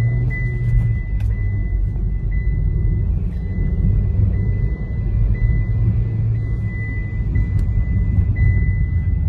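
A 2019 Hyundai Grand i10 petrol hatchback driving on the road, with a steady, loud low engine and road rumble that holds constant throughout, heard from inside the cabin with no talking.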